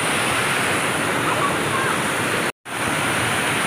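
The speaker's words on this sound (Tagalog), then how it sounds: "Ang mga nangaligo karon sa Kasabangan Falls gipauli kay ingkalit na pagbulog ang baha." Sudden floodwater surges at Kasabangan Falls, a loud, dense, steady rush of water filling the whole scene, broken by a brief dropout near the end.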